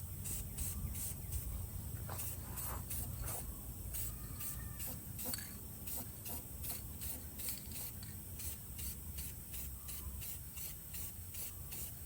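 Spray paint hisses onto a GM steering column part in repeated short bursts, a steady close hiss broken by brief pauses and faint handling scrapes.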